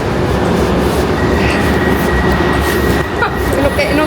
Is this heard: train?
yes